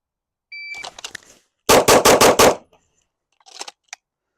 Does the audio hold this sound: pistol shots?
yes